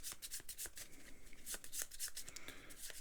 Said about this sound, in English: we will just shuffle up his deck here